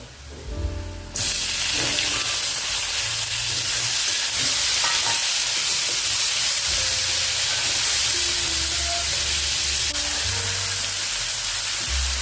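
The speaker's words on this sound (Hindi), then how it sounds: "अभी इसमें डालेंगे टमाटर" Loud, steady sizzling from a hot pan as tomatoes are added to frying onions, with a burst of hissing and occasional stirring scrapes.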